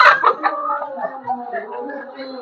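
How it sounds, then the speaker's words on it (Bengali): Brahma hens laying eggs on a fancy poultry farm, heard as close, overlapping clucks and short tonal calls that continue steadily throughout. "এই যে এখানে ব্রাহ্মা গুলো দেখতে পাচ্ছেন এগুলো হচ্ছে রানিং ব্রাহ্মা, রানিং ডিম দিচ্ছে এখন বর্তমানে।"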